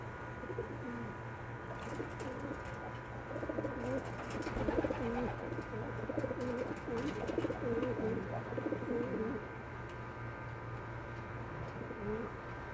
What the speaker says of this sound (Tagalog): Ganda na kalapati.